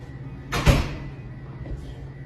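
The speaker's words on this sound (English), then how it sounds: "Did you hear the knock?" A single sharp knock or thud sounds in an empty, out-of-business store building, loud and close, followed by a faint second tap and quiet room tone.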